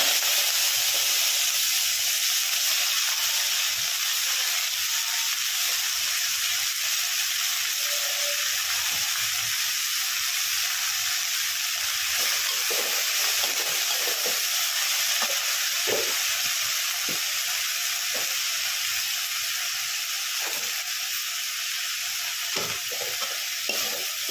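Saag leafy greens frying in a pan for an Odia-style dish make a constant loud, hissing sizzle, with faint scrapes and clicks of stirring breaking through now and then.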